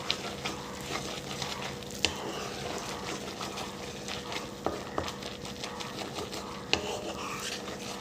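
Milk cream is stirred slowly in a pan over a low gas flame while it cooks down into ghee. A soft bubbling simmer runs under scattered scraping strokes of the spoon, with a few sharper clinks against the pan.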